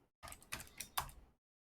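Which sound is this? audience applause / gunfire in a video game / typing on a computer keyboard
typing on a computer keyboard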